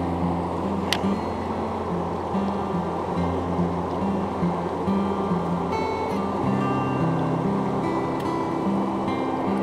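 A wild brook trout stream, the North Fork of the Moormans River near Sugar Hollow Reservoir, flows with a steady, close broadband rush of water that stays even and unbroken throughout, with no talking.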